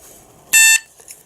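Alarm from a homemade REM ghost-hunting device: a single short, loud, high-pitched electronic beep lasting about a quarter second, standing out alone against near silence.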